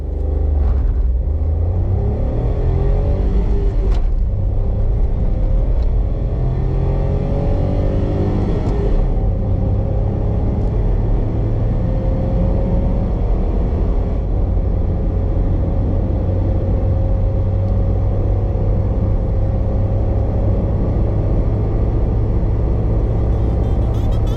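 A 2021 Suzuki Alto VXR car driving on the road, its steady low engine hum and road rumble continuous and close, with a slight rise in engine tone early on and no talking.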